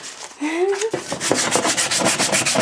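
Hand sanding with 320 grit sandpaper in a hot garage on a motorbike restoration project, close rhythmic rasping strokes that follow a short voiced sound at the start.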